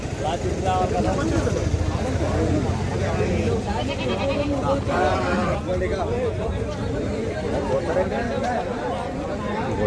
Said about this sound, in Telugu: మొత్తం అంతా కూడా గొర్రెల సంత